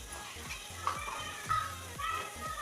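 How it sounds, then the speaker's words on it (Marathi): A pot of fish curry bubbles at a gentle boil, soft popping blips recurring in an uneven rhythm against a faint background hiss. "मस्त उकळी सुटली आहे भाजीला"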